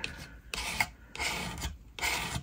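Paste is scraped across a stencil on a handmade St Patrick's Day card, making three close, rough rasping strokes in an even back-and-forth rhythm with short pauses between them.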